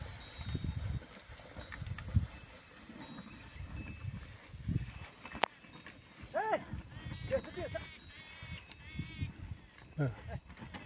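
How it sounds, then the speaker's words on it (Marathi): Heavy hooves of native bullocks plod and clop along at an uneven walking pace while people talk, with occasional animal calls in between. "छान बैल होते मस्त चालते बैल देशी आणि मोरंग्या देशी"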